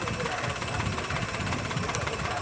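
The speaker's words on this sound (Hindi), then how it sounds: "गाड़ी में प्रॉब्लम है, इंजन उसका मिसफायर हो रहा है।" A Suzuki car engine idles with a cylinder misfire and shakes in the bay, giving a steady, close, mid-pitched chugging drone with an uneven, lumpy pulse throughout.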